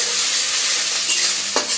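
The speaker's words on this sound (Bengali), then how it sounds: "পেঁয়াজটা একটু তেলের উপরে ভেজে নেই" Chopped onion with green chilies fries in hot oil in a village kitchen, a loud, close, hissing sizzle with stirring scrapes running through the whole moment.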